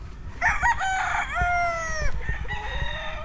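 A rooster crows a long drawn-out call nearby on a game farm in Medellin, Cebu, with other chickens clucking in the background.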